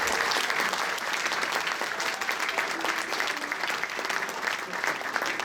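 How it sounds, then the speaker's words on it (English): An audience claps steadily for jazz musicians on stage at a classic jazz festival, a dense, sustained round of applause heard from within the room with a few faint voices mixed in. "can you all give a nice round of applause for all these fantastic musicians on stage?"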